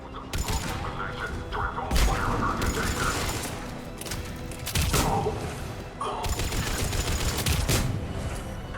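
Gunfire at a Cerberus checkpoint in the video game Mass Effect 3, loud dense volleys of shots with clanking mechanical noise, broken by brief lulls and continuing steadily throughout.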